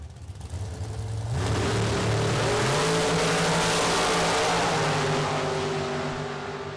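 The Strip Teaser dragster out of Grand Rapids, Michigan, launches in the right-hand lane at a Super Pro drag race, building from a low idle into a loud, sustained engine roar that climbs through its gears and holds steady at full power.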